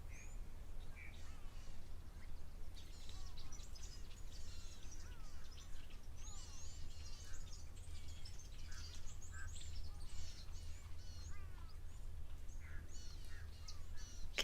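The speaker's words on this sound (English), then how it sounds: "Can hear some rattling cisticolas and grey go-away birds alarming in the background." Rattling cisticolas and grey go-away birds give alarm calls at a waterhole, with repeated faint, distant chirps and harsh calls scattered over a quiet low background hum and no voices.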